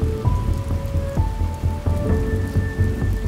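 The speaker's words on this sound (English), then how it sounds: "it was replacing it pretty much right away with the sound of rain" Rain played through sound-filtering headphones, a steady close patter of drops on a surface with a continuous wash, alone with no voices.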